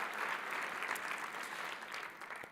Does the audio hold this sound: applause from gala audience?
yes